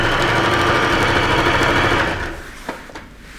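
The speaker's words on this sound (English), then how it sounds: "So I'm sewing close to that black." A sewing machine stitches fabric close to black bias binding, running in a fast, steady whir for about two seconds before slowing and stopping, followed by a few faint clicks.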